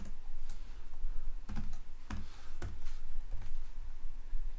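Close-up keystrokes on a computer keyboard while a name is entered, a brisk run of distinct clicks with short pauses between bursts and no voice.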